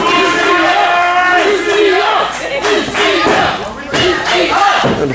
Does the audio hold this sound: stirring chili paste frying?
no